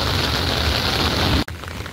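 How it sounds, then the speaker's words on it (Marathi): Heavy rain pours down in a dense, steady hiss that cuts off sharply partway through, then continues more faintly. "जोरातच पाऊस आलेला आहे।"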